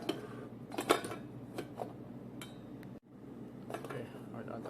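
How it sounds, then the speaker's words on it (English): Grains of rice are tipped into a bowl with clinking dish and utensil knocks, a few louder taps near the start, then scattered lighter clatter against a steady room hum. "here I will add the rice to the bowl"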